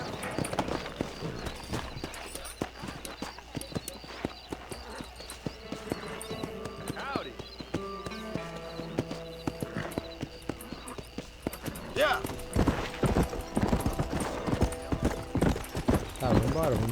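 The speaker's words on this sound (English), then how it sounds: "vamos montar no cavalo, dar uma volta aí de cavalo" In the Red Dead Redemption video game, a horse's hooves clip-clop in a steady riding rhythm, growing louder toward the end, while someone talks over the gameplay.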